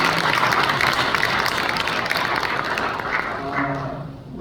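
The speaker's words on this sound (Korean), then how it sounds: "박수 한번 주시죠." Pastors and church members at a denominational seminar's opening worship service clap for the praise team, a thick burst of applause that stays strong and then thins toward the end.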